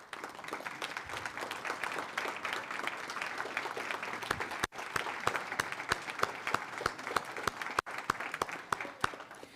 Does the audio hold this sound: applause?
yes